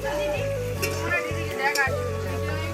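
Bitter gourd frying in oil outdoors during a family Holi gathering, a steady close sizzle running throughout with a few brief scraping bursts, no talk.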